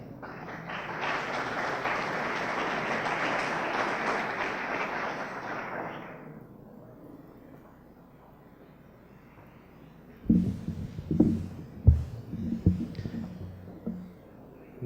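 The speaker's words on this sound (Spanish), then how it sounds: "Lo recibimos con un caluroso aplauso." Audience applause welcoming an economist to the podium at a lecture on the automotive sector, a broad, steady wash of clapping for about six seconds that fades out, followed by quiet room noise and a few close knocks and handling sounds.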